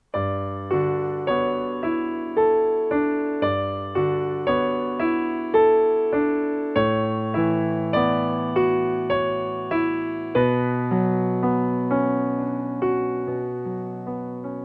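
Piano played with both hands: a steady low chordal accompaniment under a repeating melody, evenly paced notes with clear attacks, played alone at moderate volume.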